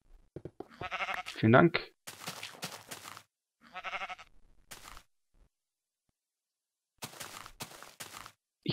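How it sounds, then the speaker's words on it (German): A sheep in the video game Minecraft gives one short, wavering bleat near the start, surrounded by someone talking casually in German. "Ein Schaf."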